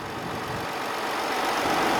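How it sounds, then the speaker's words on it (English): A 2021 Land Rover Defender 110 with a 3.0-litre D250 mild-hybrid turbo diesel straight-six idles steadily, a close, even diesel rumble and hum that holds at a constant level with no talk over it. "Has a 3-litre turbo diesel straight 6 engine."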